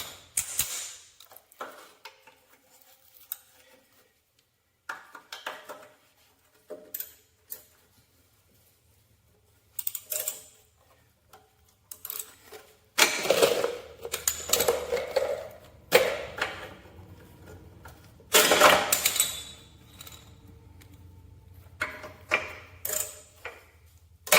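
Wrenching and metallic ratcheting as old floorboard bolts are loosened and snap off on a Cub Cadet diesel tractor, irregular bursts of clicking and grinding with pauses between, close and fairly loud.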